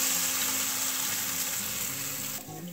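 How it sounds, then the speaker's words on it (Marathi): Besan (gram flour) batter hits a hot pan and sizzles in a loud, steady hiss close by, easing slightly as it settles near the end. "आता जे बॅटर आपण तयार करून ठेवलेलं होतं बेसन पिठाचं, ते आपल्याला यामध्ये टाकायचं आहे।"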